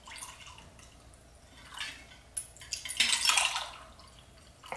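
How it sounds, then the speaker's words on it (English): A drink is poured into glasses with ice strained out: faint trickling and dripping liquid, then a brief brighter splash and clink of ice against glass, close and quiet. "So we're pouring in our drink, trying to strain as much of the ice out as possible."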